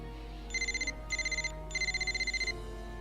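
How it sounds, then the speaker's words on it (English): A message ringtone from the video game Super Robot Wars Z3 plays as three quick bursts of bright, high electronic beeps, each a rapid pulsing run of tones, over a low steady game background. "So she's got a text message from Kyoko"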